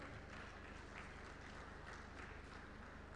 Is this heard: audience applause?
yes